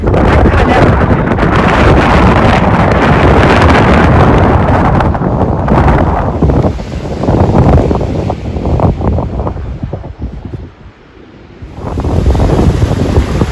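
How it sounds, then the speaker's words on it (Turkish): Powerful gusts roar against the microphone on a hilltop above a beach at Tossa de Mar, easing briefly near the end before surging back, with a surf-like rush underneath. "inanılmaz rüzgar tabii."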